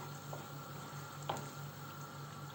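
Arabaşı soup simmering in a pot, a quiet steady bubbling hiss with a couple of faint pops, no voices.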